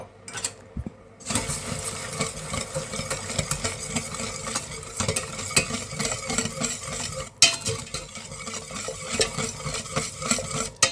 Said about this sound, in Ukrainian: Гарненько розмішую до розчинення, до повного розчинення цукру.